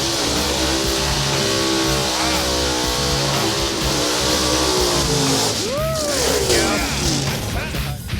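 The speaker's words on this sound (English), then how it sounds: "All right, let's watch this burnout." A car does a burnout, its engine roaring at high revs as the tires spin against the pavement, a loud continuous wall of sound with a rising squeal near the end.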